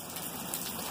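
Heavy, steady rain pours down all day onto a house porch and flooding streets, a dense, continuous hiss and patter with no voices over it.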